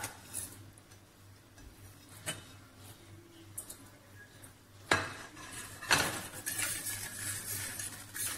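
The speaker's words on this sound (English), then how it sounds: "mix well" Pizza dough ingredients with oil, sugar and salt being mixed in a bowl, giving scattered clinks and scrapes of a utensil against the bowl, quiet at first and then louder with busier scraping, no voices.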